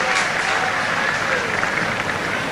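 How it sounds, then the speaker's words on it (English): An Australian cricket crowd applauds a four at a Test match, a dense, steady wash of distant clapping and cheering that holds throughout. "It roused the Australian crowd here a little bit"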